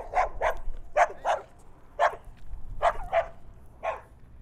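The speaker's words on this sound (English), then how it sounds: "This guy here has a barking dog" A dog barks repeatedly nearby at a campsite in Amistad National Recreation Area, Texas, sharp barks mostly in pairs with short pauses between, loud against a quiet background.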